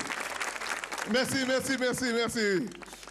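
Audience applause at a Cameroonian comedy show, a brief patter of clapping at the start before a voice speaks loudly and takes over for the rest.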